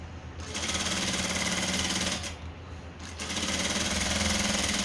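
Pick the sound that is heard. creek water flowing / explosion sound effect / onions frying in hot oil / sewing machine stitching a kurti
sewing machine stitching a kurti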